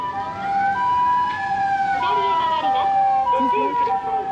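An ambulance siren wails loudly and steadily with rising and falling tones, close by on a Tokyo street near Senso-ji Temple, with traffic rumbling underneath.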